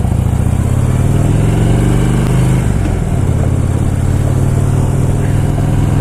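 A motorcycle engine drones loud and steady while the bike climbs a hill. The low, throbbing exhaust note shifts slightly midway, with wind noise over it and no talking.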